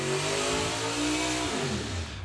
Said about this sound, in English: He'll do his burnout in a moment.